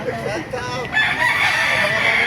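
A rooster crows amid a busy chicken market in Baliuag, Bulacan, its drawn-out call rising over steady crowd noise and birds clucking nearby.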